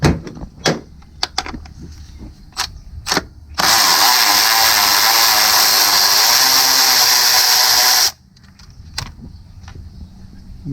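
A power tool whirs loudly for about four seconds, steady and close, while removing a 10 mm bolt on a 2014 GMC Acadia 3.6L engine during a timing chain job, with light clinks and handling noises before and after.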